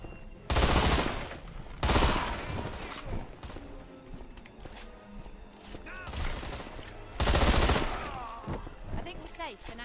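Bursts of Fedorov Automat rifle fire in the shooter game Deadfall Adventures: three loud, dense volleys, one at the start, one shortly after, one near the end, with quieter in-game sounds between.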